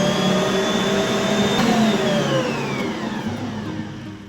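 Electric mixer running loud and close as it mixes liquidy whole wheat dinner roll dough, a continuous motor whir with its pitch gradually sliding lower as it slows.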